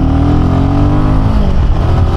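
A Royal Enfield Himalayan 450 single-cylinder motorcycle is downshifting under engine braking. Loud, close engine note, with a throbbing pitch that sweeps downward as revs fall.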